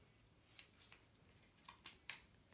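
Scissors snip through paper in a quiet room, a series of short, crisp cuts spaced irregularly, each a brief bright rasp with nothing else around them.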